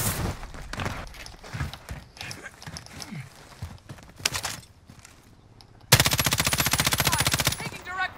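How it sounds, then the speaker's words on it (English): Rapid gunfire in the video game Call of Duty: Modern Warfare, loud close bursts and shots with footsteps scattered through, ending in a long sustained automatic burst. "Taking direct fire."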